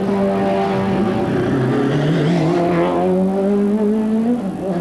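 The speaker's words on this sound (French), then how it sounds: "voilà une voiture qui arrive" A race car at the 1995 Spa-Francorchamps 24 Hours roars past at night, its engine note rising and then falling away as it sweeps by, loud and close.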